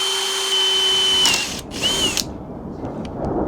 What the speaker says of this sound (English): Hence why we are drilling it upside down.